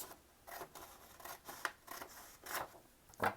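Scissors snip through brown paper in a series of crisp cuts, roughly six distinct snips spaced about half a second apart, close and fairly quiet with no talking.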